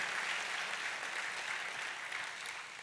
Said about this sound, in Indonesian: Kita kasih tepuk tangannya meriah buat Tuhan kita